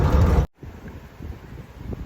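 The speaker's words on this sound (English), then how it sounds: "it's pretty windy here at the moment, very hard to take a video" Heavy wind buffets the microphone outdoors beside a GM-powered Mack FR700 truck in a loud rumbling burst that cuts out abruptly, then softer gusts keep thumping and rustling at the mic.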